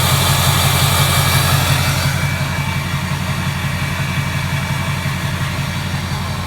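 Duramax LLY diesel pickup fitted with a Magnaflow 5-inch exhaust, idling with a steady, loud low rumble that stays constant and close throughout, no voices.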